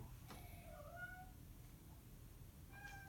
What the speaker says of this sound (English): So I guess I should feed my cat. Probably hear him whining over here.